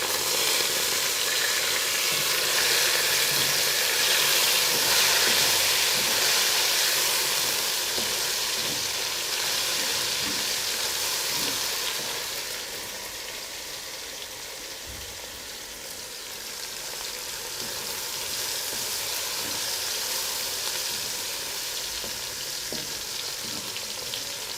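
Chopped tomatoes fry in a pan of oil for a cauliflower pulao, filling the kitchen with a continuous loud sizzle and hiss that barely changes, with faint stirring scrapes underneath and no talking.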